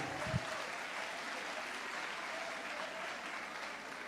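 Steady applause from a conference audience fills the room, even and sustained, heard at a distance with no voices over it.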